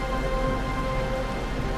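Heavy rain pours onto a ship's deck in the video game Pillars of Eternity 2: Deadfire, a steady, dense hiss of drops that holds constant throughout with no voices over it.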